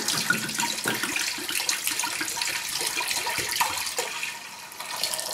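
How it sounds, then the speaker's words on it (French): Red wine poured from a bottle into a lidded cooking pot, a steady gurgling splash of liquid running continuously and fairly close, with no talk over it. "Donc vous versez votre vin dans le faitout."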